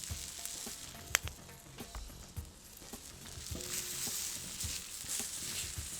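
Monterey Jack cheese and Japanese mayonnaise sizzle steadily on a backyard grill, a broadband hiss with scattered pops and a few sharp clicks, moderately close with no talking.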